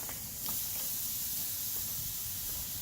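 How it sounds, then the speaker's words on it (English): Tri tip beef sears on a propane grill at close to 400 degrees, giving off a continuous soft hiss and sizzle with a few faint pops, steady and fairly quiet throughout. "I'm gonna put them on here real quick because I want to sear them."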